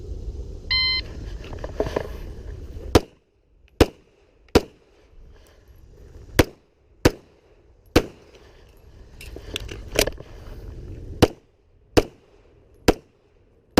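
Sharp, loud pistol shots ring out at an IDPA shooting match at Mecklenburg Wildlife Club, about a dozen single cracks spaced roughly a second apart over low outdoor background noise.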